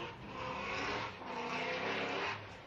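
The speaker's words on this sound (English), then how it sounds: "he calls it the Monster BMW, the V8 supercharged BMW. Hilbrun leaves the start line." A V8 supercharged BMW drift car pulls away from the start line at a Formula Drift qualifying event. The engine roars loud and sustained with a brief dip partway through, heard alone without voices.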